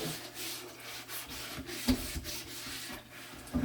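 Scrub brush rubbing over a stoneware dish at a kitchen sink, soft irregular scraping strokes with a couple of sharper knocks, fairly quiet and close.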